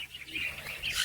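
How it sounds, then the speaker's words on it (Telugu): Small birds chirping in an aviary in Bangalore, a steady stream of thin high tweets at moderate distance with no one talking. "చిన్న చిన్న బర్డ్స్ ఉన్నాయి ఇక్కడ."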